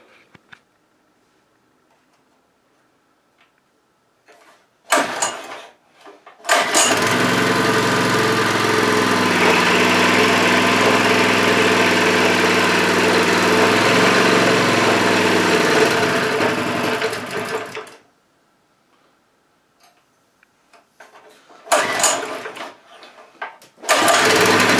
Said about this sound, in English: So I suppose we better fire it up now and see if that wheel turns.